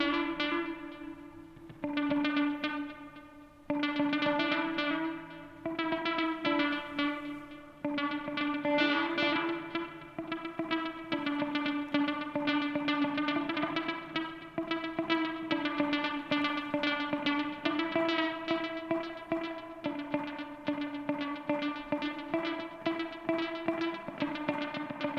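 A Strymon Volante echo pedal processes an electric guitar, with sustained chords and notes trailing into repeating delays and reverb tails, loud and continuous with no talking.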